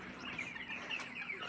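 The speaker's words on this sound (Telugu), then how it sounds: "కోళ్ళు అయితే మంచిగా ఉన్నాయి" Chickens clucking steadily on a poultry farm, several birds calling close by in overlapping bursts with no voices over them.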